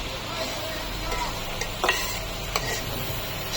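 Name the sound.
cooking Maggi noodles in a pan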